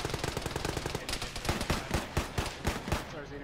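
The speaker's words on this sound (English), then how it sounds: "Start dumping ammo now to suppress this contact" Sustained automatic machine-gun fire in the military shooter ArmA, rapid bursts of shots in an uneven rhythm, some close and loud, others more distant, continuing throughout.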